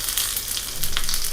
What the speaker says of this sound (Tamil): இந்த நெய்யில் வந்து பெருங்காயம், கருவேப்பிலை மட்டும் தாளிச்சிக்கலாம்.